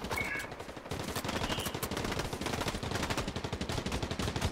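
Rapid gunfire from a gun in a video game, running as dense continuous automatic bursts throughout at a fairly low, steady level.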